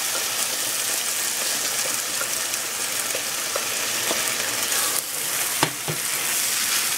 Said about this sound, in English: now that I've sauteed that for a little bit, I'm going to add in my sauce.